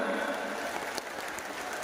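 A big crowd at a mass wedding gathering claps softly, a steady hissing patter of many hands that eases slightly toward the end.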